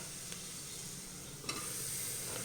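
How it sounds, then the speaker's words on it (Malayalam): Potatoes fry in a pan with a steady soft sizzle while a spoon stirs them, giving occasional light scrapes against the pan, faint and without voices. "നമുക്ക് ഉരുളക്കിഴങ്ങ് ഇട്ട് കൊടുക്കാം നന്നായിട്ടൊന്ന് ഇളക്കാം"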